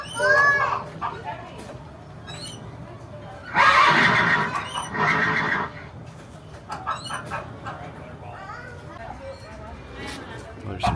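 Horses neigh and whinny in a barn shared with a blacksmith at a frontier fort scene, several loud, shrill calls in bursts with rustling and voices talking in between.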